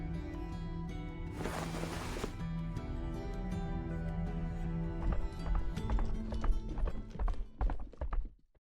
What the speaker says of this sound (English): A swift horse is approaching, Your Highness.